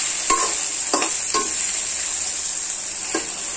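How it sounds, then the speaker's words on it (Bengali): Turmeric, chili powder and salt stirred in a pan for chotpoti, with a bright continuous sizzle and several distinct spoon scrapes against the metal, close and loud. "এবং সবগুলোকে এবার নাড়াচাড়া করে নেব।"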